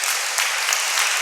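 A church congregation breaks into loud, sustained applause, a steady wash of many hands clapping close by.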